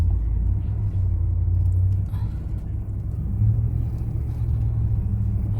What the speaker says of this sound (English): My truck seems to be having a hard time.